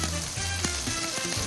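Seasoned salmon sizzles in a hot pan on a powerful stove, a steady close frying hiss with small pops and crackles throughout.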